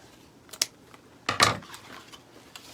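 Scissors snip through a piece of red ribbon for a patriotic wreath, two sharp close cuts, the second longer and louder, in a quiet room.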